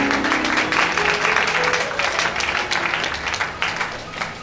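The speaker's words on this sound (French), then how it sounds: "Est-ce qu'on peut acclamer?" A church congregation applauds and cheers during a French-language worship service, a dense, steady wash of clapping hands that carries evenly from start to finish with murmured voices mixed underneath.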